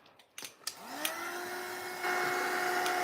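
A dryer blowing onto gel medium in a mixed-media art session: a few handling clicks and thumps, then a motor whirs up into a steady airy whine that grows louder and steps up near the end, close and continuous.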